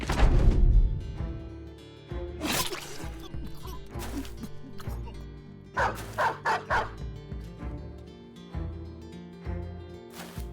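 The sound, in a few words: dog barking in video game Battle Brothers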